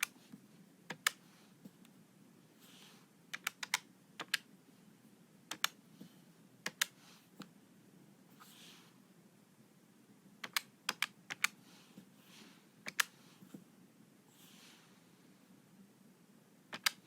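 Calculator buttons are pressed in quiet, crisp clicks, sometimes single and sometimes in quick bursts, with pauses between entries and no talk.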